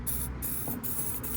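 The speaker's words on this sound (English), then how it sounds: "Good old coat of WD-40." WD-40 aerosol sprayed onto the door latch of a 1973 Ford Mustang Mach 1, a steady close hiss running almost without break, with a few short pauses between bursts.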